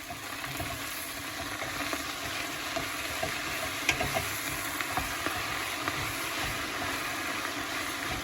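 Kale marinara with black pepper sizzles and fries steadily in a pan while being stirred, a continuous close crackle with soft scraping movements throughout.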